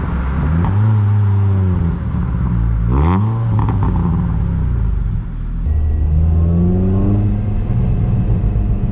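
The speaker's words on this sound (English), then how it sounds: "Just like revving between 2 and 3. You get this nice kind of burbles and crackle sounds." Car fitted with a full non-resonated Milltek exhaust, 4-1 manifold and sports cat, revved repeatedly with rising and falling engine note, deep rumble and burbles between blips, loud and close with no talking.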